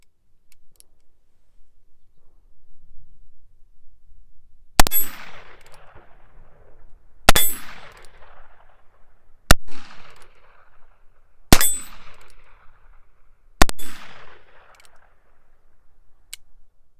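Five loud, sharp gunshots from a Heritage Tactical Cowboy revolver fired with open sights, spaced about two seconds apart, each a crisp crack with a short ringing decay over faint outdoor background.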